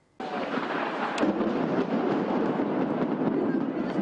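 Thunder rumbles continuously and loudly through an outdoor candlelight vigil in a park in Singapore, a steady broad roar with a sharp crack near the start and no break to the end.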